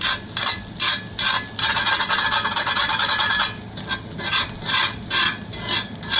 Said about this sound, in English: the rice gets crispy when you cook it this way, especially on a cast iron skillet. Stirring this.